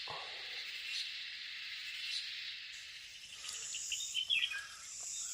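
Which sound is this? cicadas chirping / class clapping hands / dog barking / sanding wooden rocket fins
cicadas chirping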